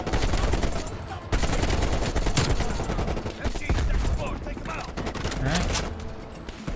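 Sustained bursts of automatic gunfire and scattered shots from the video game Call of Duty: Black Ops Cold War, loud and continuous over game effects, with voices talking underneath.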